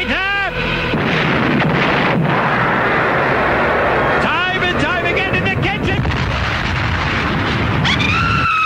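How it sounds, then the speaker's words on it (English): A detonator triggers a big radio-drama explosion: a heavy roaring blast with crackling rumble and booming bursts that keep going for several seconds, loud and close, with a voice briefly heard over it. "I hit the detonator!"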